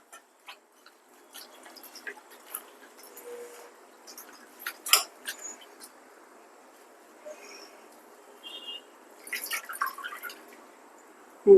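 Water drips from freshly washed gongura (sorrel) leaves, scattered soft ticks and splats at irregular intervals in an otherwise quiet room, with a few louder drops toward the end.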